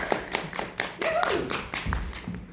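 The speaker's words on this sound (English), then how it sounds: "Round of applause for Daniel." Applause for a volunteer at a science centre demonstration, a short burst of several hands clapping nearby, with a brief voice and a faint squeak mixed in.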